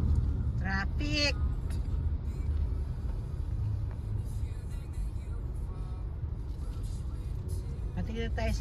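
Downtown road traffic on a morning drive, a steady low rumble of cars and buses in slow congestion, with a few brief voices in the vehicle near the start and end.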